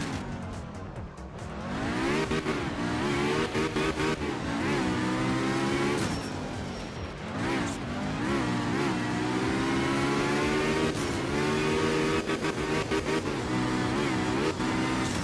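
Rally car engine from the art of rally video game, driven on a wet Japan stage, revving steadily and rising and falling in pitch through gear changes, loud and continuous with no talk.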